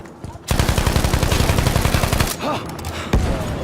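Rapid automatic gunfire from a video game rattles in a long, loud continuous burst, then breaks into a few scattered single shots and impacts.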